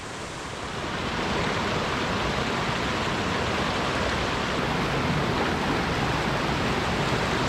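A forest creek flows at a steady, loud rush, a broad continuous wash of water that swells in over the first second and then holds evenly, with no voices.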